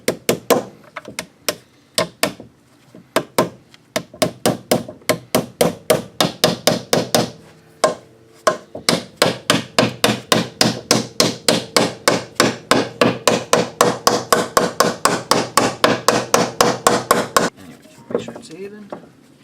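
A hammer taps a new engine timing cover seal into place around its edges, a long run of sharp metallic knocks, at first irregular, then rapid and evenly paced, close and loud with almost no talk.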